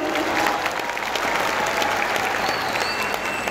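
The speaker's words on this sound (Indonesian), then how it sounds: "Saya boleh dengar tepuk tangannya dari seluruh ruangan ini." Steady, dense applause filling a large hall at a civil servant appointment ceremony, sustained and even throughout with no speech.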